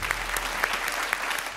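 Audience on a stage talent show claps to welcome a team leader, moderately loud scattered applause with a few sharp individual claps standing out.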